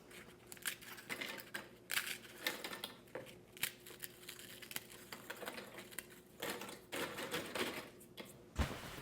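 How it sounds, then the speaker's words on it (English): A food processor pulses crackers into fine crumbs for a cheesecake, giving short bursts of rattling and crunching separated by brief pauses, fairly quiet and close. "I'm actually using a food processor, but however you do it, you need nice fine crumbs."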